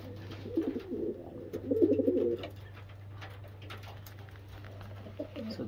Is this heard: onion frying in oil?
no